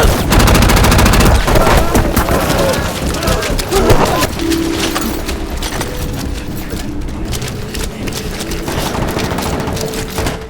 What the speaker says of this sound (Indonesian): Mereka mulai bergerak dan menembak musuh yang berada di dataran tinggi tersebut.